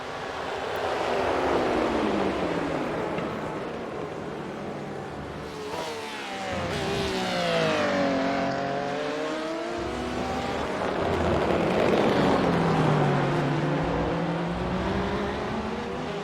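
Race car engines roar at Le Mans in iRacing, one held at full throttle as cars pass, loud whining engine tones rising and falling in pitch across the clip with no talk.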